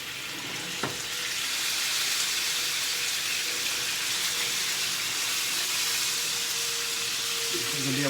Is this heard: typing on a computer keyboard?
no